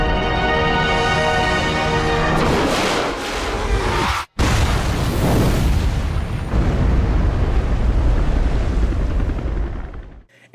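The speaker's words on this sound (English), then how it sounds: "finish it all off with a rocket while he swims in lava" A big rocket blast in Resident Evil 5 against a foe in lava, a loud booming explosion that hits hard, cuts out briefly, then rolls on as a sustained roar before fading.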